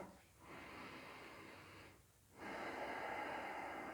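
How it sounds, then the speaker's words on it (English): Slow, deep yoga breaths, quiet and close, with two soft airy inhales or exhales separated by short pauses, and no talking. "And we're going to do a couple breaths."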